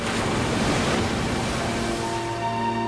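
Ocean surf rolls in a steady, dense wash of breaking water with a layer of wind, loud and continuous with no voices.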